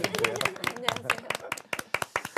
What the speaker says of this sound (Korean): 오늘도 우리끼리 한번 박수로 한번 응원해 보시죠